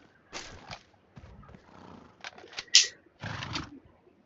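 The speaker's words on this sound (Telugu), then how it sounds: "అది గుర్రాలు" Horses neigh and whinny in the BGMI mobile battle-royale game, a few short calls between louder bursts, with faint hoof-like clatter in the mix and no talk.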